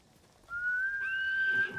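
A horse in the video game Ghost of Tsushima neighs once, a clear, high, drawn-out whinny rising and holding for over a second over quiet ambience.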